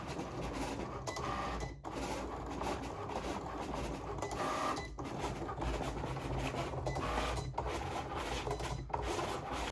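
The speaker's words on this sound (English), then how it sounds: "So I'm gonna load this into the Cricut, hope it cuts" A Cricut cutting machine slices a sheet of white vinyl, making a steady close mechanical whirring and rasping with the carriage shuttling back and forth and brief pauses every few seconds, no voices.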